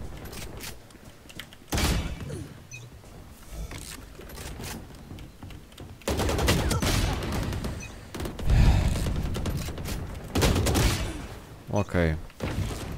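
Sharp bursts of gunfire crack repeatedly in clustered volleys, with louder stretches of shooting and clanking mechanical noise in between.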